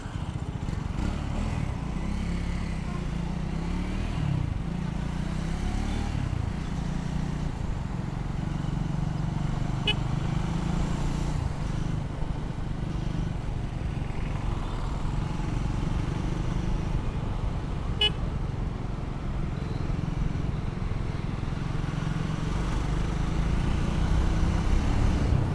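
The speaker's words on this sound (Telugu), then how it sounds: "ఎగ్జాస్ట్ నోట్ వినండి ఇప్పుడు." A Triumph Speed 400 motorcycle engine runs steadily at idle close by after starting, a constant low exhaust rumble that holds throughout with no talking.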